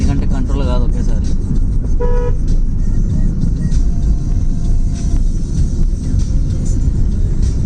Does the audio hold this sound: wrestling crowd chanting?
no